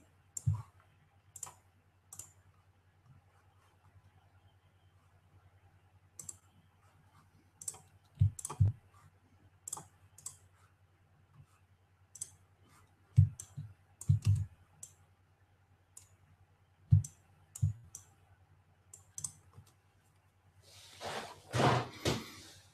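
Sharp, isolated mouse clicks come at irregular intervals during drawing work in Inkscape, quiet and close, with a low steady hum beneath and a brief burst of rustling near the end.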